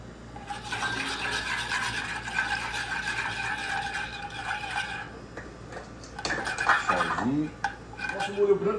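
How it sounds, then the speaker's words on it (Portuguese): Milk is poured into a white sauce for Mornay in a pan while a utensil stirs and scrapes against the metal, with steady clinking and rasping and a louder clatter near the end. "E agora vamos acrescentando o leite até dar o ponto que a gente deseja"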